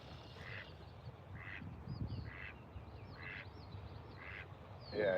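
Ducks beside a Wisconsin Dells river quack in a steady series of about eight evenly spaced calls, fairly faint and a little distant, over a soft outdoor background.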